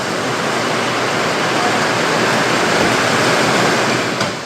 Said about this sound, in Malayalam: പെരുംജാതി മഴയാണ്